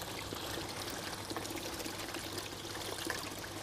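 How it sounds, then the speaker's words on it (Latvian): Water trickles and splashes continuously in a garden fountain, a steady close pouring sound with no voices. "Strūklaka, tas ir sarežģīti, jo reti kuram latvietim dārzā ir strūklaka"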